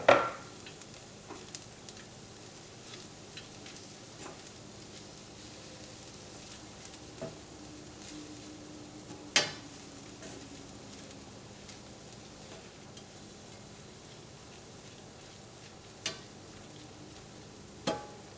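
Grated coconut is stirred into bitter gourd frying with chilli for a Kerala-style pavakka thoran, giving a steady soft sizzle with occasional sharp clicks of a spoon against the pan and no talking.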